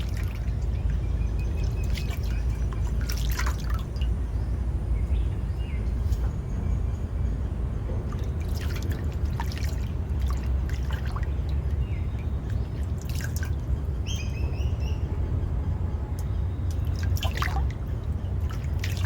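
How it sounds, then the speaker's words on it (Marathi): Water pours and drips steadily, with small splashes and trickles as wild mushrooms are rinsed of soil one by one, close by; faint birdsong in the background. "आता ना मी अळंबे धुवून घेते एक एक"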